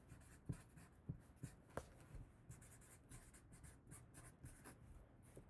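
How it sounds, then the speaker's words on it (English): Pencil marks rubbed off Zentangle ink art with an eraser, a quiet series of short scratchy strokes, sharper at first and then a steady soft rubbing, with no voices. "Step seven, erase all pencil marks."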